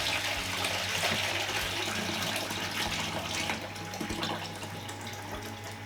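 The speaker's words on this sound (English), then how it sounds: "remove the drip tray and pour it out." Water is poured out of the drip tray of a Ninja Slushi machine, a steady splashing gush running close by for several seconds.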